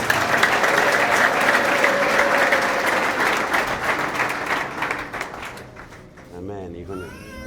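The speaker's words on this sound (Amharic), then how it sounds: "ለእግዚአብሔር ክብር አጨብጭቡ።" A church congregation claps loudly and continuously for about five seconds, the applause slowly thinning out, followed by a voice and soft tones.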